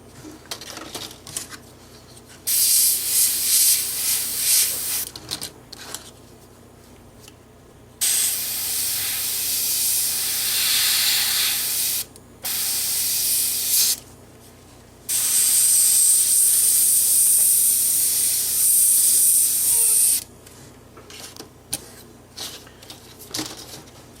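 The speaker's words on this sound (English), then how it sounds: "I'm spraying a fairly fine mist and trying to stay right on the edge of the flame" An airbrush or paint sprayer hisses in several bursts of fine mist while painting a flame effect on an RC car body shell, some short and some lasting several seconds, with quiet pauses between.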